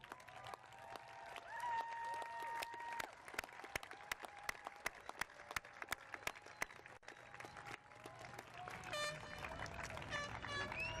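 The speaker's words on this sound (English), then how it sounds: "say to those of you who've come here to support them a special thank you by standing and applauding for all of you" A graduating class at the Los Angeles Harbor College 2014 graduation ceremony applauds its supporters: sustained crowd clapping with sharp individual claps standing out, a horn-like tone, and whistles or cheers rising near the end.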